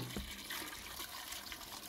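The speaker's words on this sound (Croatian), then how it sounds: "Sada dodajemo hladnu vodu i bitno je da tegle budu pod vodom sve do poklopaca." Cold water pours steadily into jars set in a pot, making a continuous close splashing rush with no voices.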